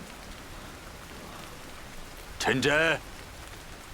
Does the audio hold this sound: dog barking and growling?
no